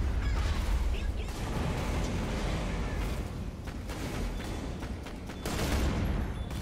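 Burst-fire gunshots in Borderlands: The Pre-Sequel, loud repeated clusters of shots over a dense battle din, with occasional heavier blasts and a brief lull midway.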